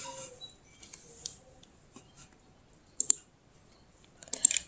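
Keystrokes on a computer keyboard as router commands are entered, sparse light clicks scattered through quiet with two short clustered bursts of typing near the end.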